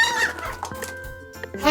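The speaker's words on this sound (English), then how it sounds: "hen," A farm hen clucks in a short series of close, clear clucks, standing alone with no talking.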